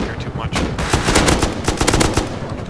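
Rapid bursts of automatic gunfire in the survival video game Rust, many close shots in quick irregular succession, with a voice faintly underneath.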